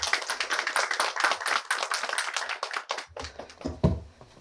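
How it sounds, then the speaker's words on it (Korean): A small lecture audience applauds to welcome a speaker, giving distinct, close claps in a quick irregular patter that thins out near the end, with a brief bump of handling or movement. "큰 박수로 맞이해 주십시오."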